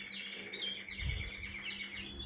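Pet birds, including newly weaned chicks, chirping in a steady run of faint, high tweets over a constant low hum and background noise, with no talk.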